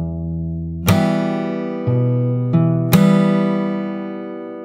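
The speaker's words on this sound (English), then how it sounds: "So the whole thing really slow sounds like this." Slow fingerstyle guitar opening of a jazz standard: a sustained bass note, a crisp percussive slap on the chord, two gentle plucked changes and a final slapped chord decaying clearly, with no voices.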